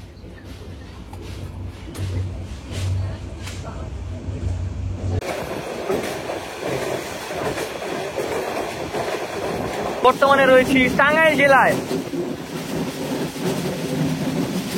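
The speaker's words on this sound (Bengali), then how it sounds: "আমাদের ট্রেনটি এখন যমুনা সেতুতে প্রবেশ করলো" Kurigram Express passenger train rolling onto the Jamuna bridge, a steady low rumble of carriages with a sharper squealing burst near the end, heard from inside under someone talking.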